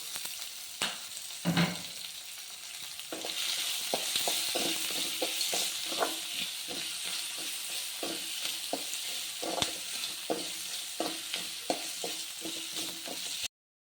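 Onions frying in a pan with garlic, ginger and coarse salt, a steady close sizzle under a long run of quick scraping taps as a spoon stirs, with no talk.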